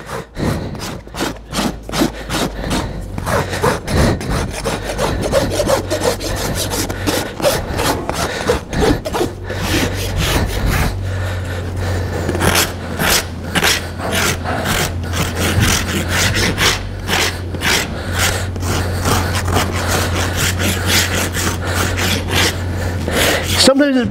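A farrier rasps a horse's hoof to address a toe flare, giving loud, rhythmic rough strokes back and forth with brief pauses, and someone talks over parts of it.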